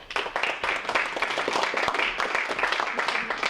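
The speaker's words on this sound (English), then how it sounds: "You should give yourself a round of applause for coming tonight" Audience applause at a town candidates night, a steady dense patter of many hands clapping throughout, with faint talk mixed in.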